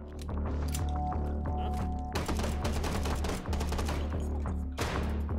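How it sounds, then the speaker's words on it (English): A flashbang grenade goes off during a firefight in the VR shooter Hot Dogs, Horseshoes & Hand Grenades: a sharp, loud bang cuts through steady nearby gunfire and clattering action. "flashbang"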